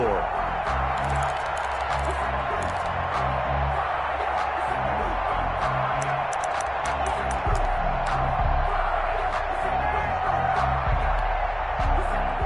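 Steady crowd roar filling a football stadium at Lambeau in a PS4 football video game, a broad continuous wash of cheering with scattered whoops throughout, mixed under a commentator's voice.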